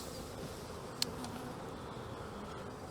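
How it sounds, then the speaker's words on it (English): Honey bees buzz in a dense, steady drone as they are shaken off a hive frame during a spring inspection, with one sharp tap near the middle. "I'm going to shake the bees off this, just in case the queen's on"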